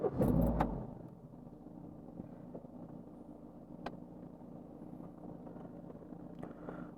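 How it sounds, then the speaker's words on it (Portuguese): A Renault car engine cranks and fires with a loud burst at the start, then settles into a steady low idle rumble with a few small clicks and knocks. "vamos dar partida aqui para analisar"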